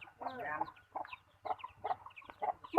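Chickens on a small integrated backyard farm cluck in short, scattered bursts, moderately near, with a louder squawk at the end; no talk over them.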